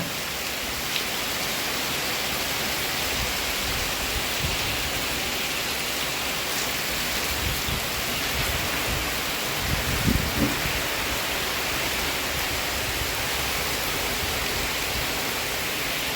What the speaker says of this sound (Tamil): செம மழை வந்து பெஞ்சு கொண்டு இருக்குது